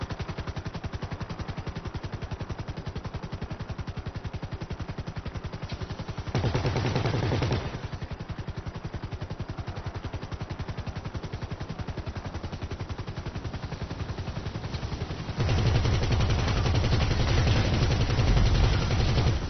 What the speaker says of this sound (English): Stop shooting, mate.